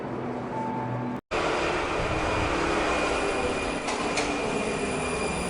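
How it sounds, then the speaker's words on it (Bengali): A train pulls into a station with a loud, continuous rumble of rolling carriages and high squealing wheels, used as a sound effect in a horror story. "ট্রেন এসে এবার একটি অজানা স্টেশনে দাঁড়ালো"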